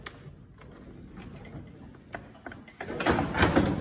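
Metal clicks and clatter of a Kombi sheep weighing clamp opening and closing as a sheep is handled, quiet at first, then a louder burst of rattling and knocking near the end.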